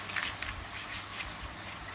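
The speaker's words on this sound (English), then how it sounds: "I'm just shuffling your cards." Tarot cards shuffle quietly close by in a few short, soft riffling bursts with brief pauses between them.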